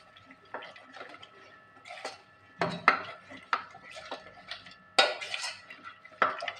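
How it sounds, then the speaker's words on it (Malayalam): Arrowroot powder and water are stirred in a pot for payasam: irregular metallic clinks and scrapes of a spoon against the pot, some sharp and loud, others soft. "ഒരു ഗ്ലാസ് വെള്ളം ഒഴിച്ച് ഇതൊന്ന് ഇളക്കുകയാണ്."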